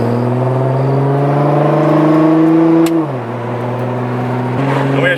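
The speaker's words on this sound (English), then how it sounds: "And we are setting off now in the wide body GT-R." A wide body Nissan GT-R with roll cage and race seats pulls away, its engine revving up in a steady rising drone, dropping briefly at a shift, then climbing again, loud and close from inside the car.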